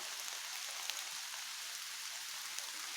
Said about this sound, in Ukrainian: Пішов дощ, то я там ховаюся, натягнув тента.